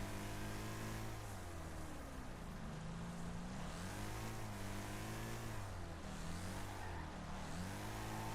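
A race car in Wreckfest roars at full throttle, its engine note climbing and dipping through gear changes as it accelerates hard down a fast section, loud and continuous with no voices.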